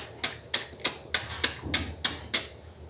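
A beatboxer voices a reverse CH sound, a vocal imitation of a percussive hit, repeated eight times in an even, quick rhythm. Each is a sharp, close, breathy burst that fades briefly.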